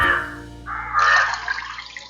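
Water is poured into a measuring cup while making a cake, a short trickling, splashing pour that grows fuller partway through and runs steadily to the end.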